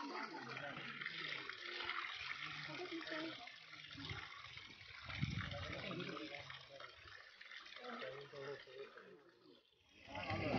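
A natural mountain stream flows in Eravikulam National Park at Rajamalai, Munnar, making a continuous splashing rush. Muffled voices talk over it throughout.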